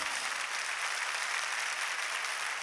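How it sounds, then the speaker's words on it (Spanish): A church congregation claps in a dense, steady burst of applause, fairly distant and even throughout, with no voices standing out. "Dale fuerte ese aplauso al Señor."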